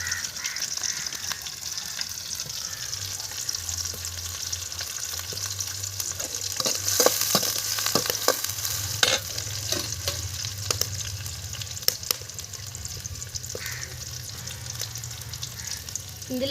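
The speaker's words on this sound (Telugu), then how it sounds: "ఉల్లిపాయలు వచ్చేసి దోరెరుపుగా వచ్చేంత వరకు వేయించుకోవాలన్నమాట" Onions fry in a pan over a wood-fired stove for fish curry, giving a steady sizzle with scattered crackles and pops. A low hum runs underneath the whole time and no one speaks.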